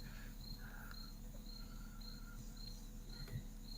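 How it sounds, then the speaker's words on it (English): Crickets chirp in steady, evenly spaced pulses over a constant low hum, faint and continuous with no talking. "Are those crickets?"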